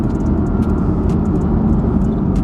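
A Mercedes AMG GTS Edition One engine and exhaust drone loudly and steadily from inside the car as it cruises, a deep continuous rumble with no talking.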